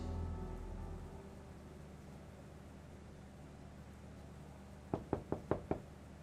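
Five quick knocks on a door, sharp and fairly close, come after a stretch of quiet room tone with a low rumble at the start.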